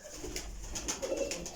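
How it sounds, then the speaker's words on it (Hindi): Teddy pigeon cooing softly in a loft, a low, rounded coo rising near the end over a steady background hum, with faint scattered chirps from other birds. "टैडी कबूतर जे"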